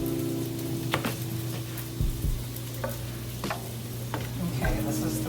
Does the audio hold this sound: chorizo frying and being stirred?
yes